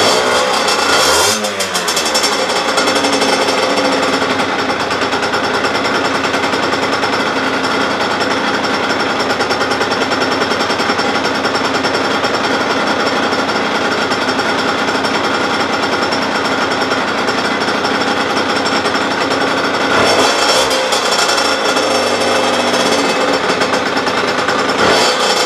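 A 2009 Yamaha DT 50 moped engine runs loud and raspy throughout, with throttle blips early on and again around the twenty-second mark over a steady harsh drone.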